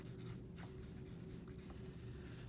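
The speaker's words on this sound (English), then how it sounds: "I just used a number 2 pencil and I pressed these just a little bit harder" Soft, steady scratching of a number 2 pencil lightly shading across notebook paper, continuous and close with small rises in pressure, no voices.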